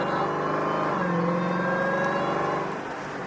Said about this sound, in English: What's that whining noise?